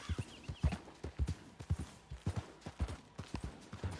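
Horse hooves clip-clop steadily in the Red Dead Redemption 2 video game, an even, close rhythm of hoofbeats with no talk over them.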